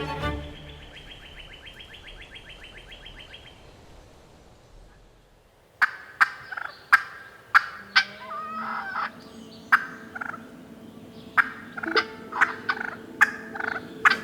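Wild eastern hen turkey calls outdoors, a series of sharp, clucking yelps and putts arriving in uneven bursts after a stretch of quiet rustle, fairly close and clear with a soft background hum.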